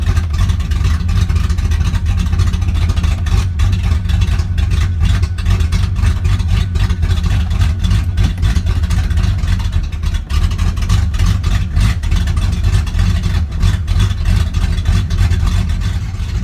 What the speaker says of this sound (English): Idle comes back down quick.